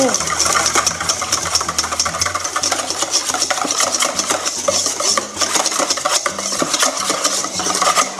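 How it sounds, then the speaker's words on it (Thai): A whisk beats a cream sauce for lemon cream fried shrimp until the oil is absorbed, giving a fast, continuous scraping and clicking against the bowl. The sound is close and steady throughout. "เราจะตี ไปเรื่อยๆจนหมดน้ำมัน"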